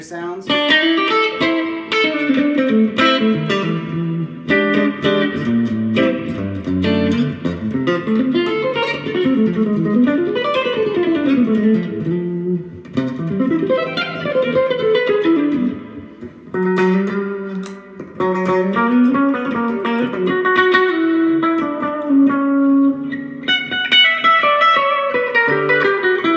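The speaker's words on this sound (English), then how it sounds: "Here's the Fender sounds." An electric guitar plays through the Fender amp models of a Roland Cube Street, giving continuous clean-toned riffs, sliding runs and chords with slight reverb, loud and close with no pauses.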